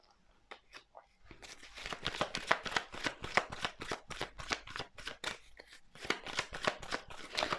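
A deck of cards is shuffled close by, a few soft taps and then a quick rapid run of crisp riffling flicks.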